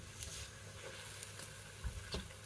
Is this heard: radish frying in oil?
yes